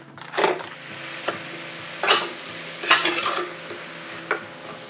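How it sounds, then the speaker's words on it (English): Two pounds of ground beef browning in a skillet, with a utensil scraping and clinking against the pan in several sharp bursts over a faint, steady sizzle. "While we're browning the meat"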